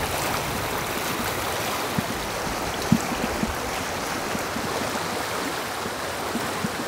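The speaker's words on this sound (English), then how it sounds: "normally this river right here is like super shallow, just a meandering little bit of water that you walk over" A river swollen well past its usual shallow, meandering trickle rushes steadily, a dense continuous roar of flowing water with faint splashes, heard close and alone without talk.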